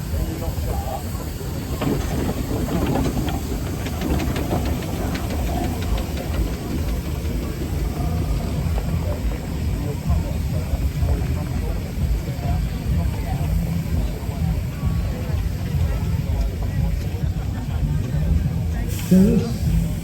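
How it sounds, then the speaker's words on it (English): A blue three-quarter-size, 9-inch-scale ploughing steam wagon drives past at an outdoor steam show, giving a steady low rumble and hiss that fills the clip, with crowd chatter and voices underneath. "The Ploughing steam wagon, which has just gone past me in blue, that is what we term a 9-inch scale."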